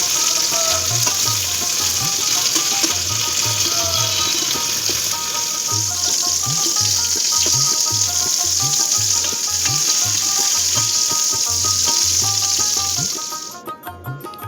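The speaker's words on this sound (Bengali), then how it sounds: "এবার আমি ওই কেটে রাখা নুন হলুদ মাখানো যে পটলগুলো রয়েছে সেটা ছেড়ে দিলাম।" Pointed gourd (potol) pieces coated with salt and turmeric frying in a pan, a loud, steady sizzle with repeated lower bumps that fades away near the end.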